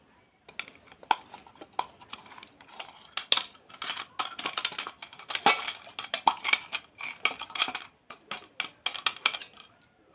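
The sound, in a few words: mixing raw jackfruit oil pickle with spice paste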